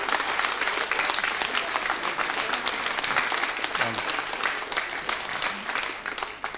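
Audience applause fills a Latvian radio studio concert hall, steady and dense throughout, with a brief voice surfacing faintly near the middle.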